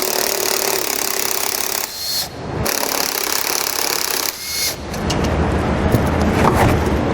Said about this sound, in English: you're going to have 5 more bolts that are holding this panel on. We're going to go ahead and take them off and remove this panel